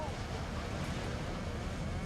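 Loud, steady roar of wind rushing through a BAC One-Eleven airliner cockpit after a windscreen blowout on British Airways flight 5390, a dense broadband rumble that stays constant throughout.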